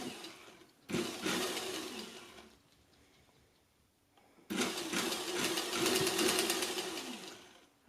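A sewing machine stitches along a folded fabric edge on a DIY cocoon coat in two loud, close bursts of rapid mechanical whirring, separated by a few seconds of near silence.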